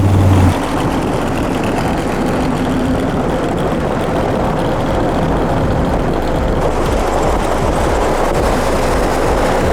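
A garage-built Chevy Nova SS pro-street muscle car engine rumbles loudly and continuously while driving, a deep rough drone that holds steady throughout with slight swells.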